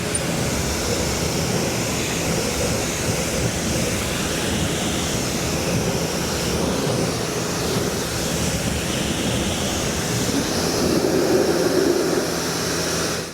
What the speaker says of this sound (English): I think it's time to rinse it down and move on